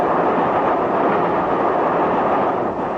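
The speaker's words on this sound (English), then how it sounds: "Did you hear that rattle of the wheels just now?" Train wheels on the London, Brighton and South Coast line rattle over crossover points, a steady loud rumbling clatter running continuously with no talk over it.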